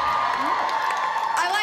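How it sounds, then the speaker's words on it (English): Women in a comedy club crowd letting out a high, whooping cheer, loud and dense for a brief moment amid general crowd noise. "That's the girl cheer."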